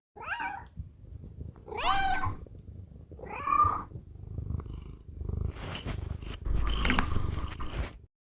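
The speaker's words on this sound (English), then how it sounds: "you gotta hear one of his kitties" A house cat meows several times in short, separate calls, then settles into a close, rumbling purr mixed with soft chewing-like noises.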